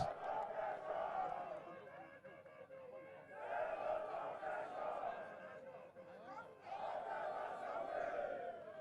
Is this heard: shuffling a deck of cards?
no